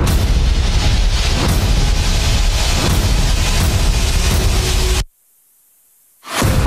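Loud, dense broadband booming from Ukrainian Leopard tanks firing alongside explosions on the front line with the 33rd Mechanized Brigade, a continuous roar that cuts off abruptly into near silence before resuming.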